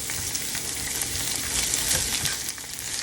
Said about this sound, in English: as our onions are caramelizing